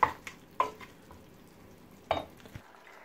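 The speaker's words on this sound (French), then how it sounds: "Je vais bien mélanger." Lamb chops are stirred in a marinade in a pot, giving a few sharp scraping and clinking strokes at close range, separated by quiet moments with no talking.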